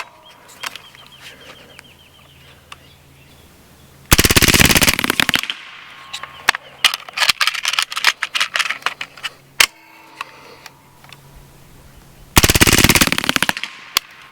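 A Hatsan Blitz .30 caliber air rifle firing full auto, with two loud rapid bursts of shots close by, separated by scattered single clicks and metallic handling noises.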